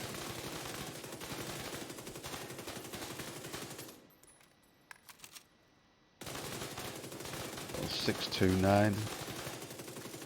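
A submachine gun in a video game fires rapid bursts, dense rattling shots, then a short quiet gap with a few isolated clicks before the firing resumes alongside a brief rising electronic tone.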